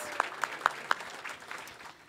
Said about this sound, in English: Let's give them a round of applause for our first four storytellers.